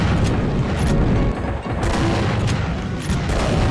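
Super shotgun fire in the Doom mod Heartland, a dense, loud barrage of booming blasts and rumbling impacts packed tightly together with no pauses.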